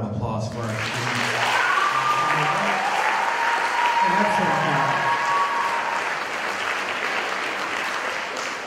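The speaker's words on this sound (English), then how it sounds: "Let's have another round of applause for our students." A school concert audience applauds students at a high school instrumental showcase, a dense, sustained clapping that swells in after a moment, holds steady and loud, then tapers slightly, with a few voices and whoops mixed in.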